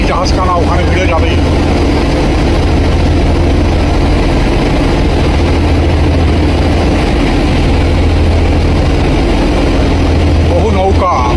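A ship's engine drones steadily with a low, continuous rumble as the vessel nears Havelock jetty in the Andaman Islands, with voices faintly audible in the background throughout.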